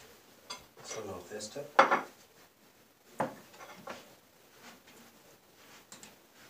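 A knife working on a board while preparing herring under a fur coat, giving scattered clinks and knocks of utensils and dishes, fairly quiet with gaps of near silence.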